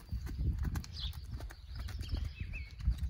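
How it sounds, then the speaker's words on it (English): A horse cantering in a round pen, its hooves striking the ground in a quick, rhythmic clip-clop that stays fairly faint and moderately distant throughout. "sometimes he likes to canter off"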